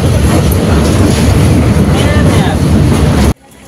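A train crossing the Jaldhaka river bridge on the New Cooch Behar to Mathabhanga route rumbles loudly and steadily with a broad metallic roar before it cuts off abruptly near the end.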